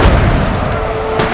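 Artillery pounds a building during a Battle of Waterloo fight in the strategy game Napoleon Total War, a loud, dense boom rolling out at the start, followed by a sharper burst just at the end.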